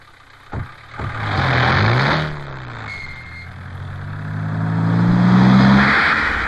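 A car engine cranks and catches, then revs up and settles before revving again, close and fairly loud with no talk over it.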